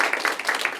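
Audience applause at a ceremony opening a 2024 Pyeongtaek SDG supporters video presentation and graduation event: dense, steady clapping filling the whole moment at moderate loudness, with no voice over it.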